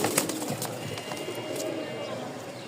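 Rajshahi high-flying pigeons coo softly in a loft, low murmuring calls under a person's voice, with faint background clatter.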